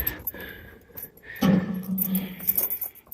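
Keys jangle inside a 1977 Ford LTD sitting in a junkyard, with a sudden close metallic rattle about midway, then lighter clinks settling over faint background noise.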